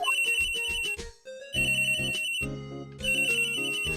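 An electronic phone ringtone from the Phoenix Wright: Ace Attorney video game plays a bright, repeating melodic trill in loud bursts with brief pauses, alone without any talking.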